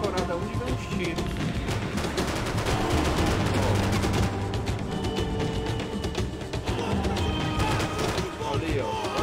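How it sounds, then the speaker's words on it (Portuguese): Rapid video game gunfire crackles in dense bursts amid explosions and crashing, loud and continuous, while a player talks over the action. "Tô levando tiro, não sei de onde é."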